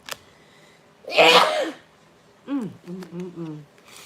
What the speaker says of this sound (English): I don't know what's making me sneeze